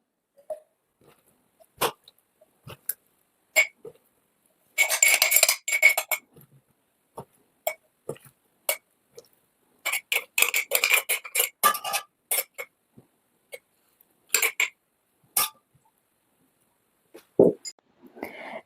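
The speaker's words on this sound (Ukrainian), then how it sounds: "Тепер беремо чисті баночки і наповнюємо їх кабачками" Clean glass jars being filled with marinated zucchini: scattered clinks and short clattering bursts of glass and utensils in a quiet kitchen, with pauses between them.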